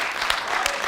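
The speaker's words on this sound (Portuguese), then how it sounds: "Dá um aplauso bem forte ao Senhor nessa noite." Brief burst of congregation applause in a church service, a wash of clapping with a couple of sharper claps.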